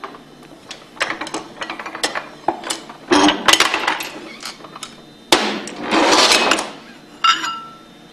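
Shaft and rotor assembly pressed and tapped out of a Hypro roller pump, a series of sharp metallic knocks and clinks at an uneven pace, with scraping, grinding stretches between them at close range.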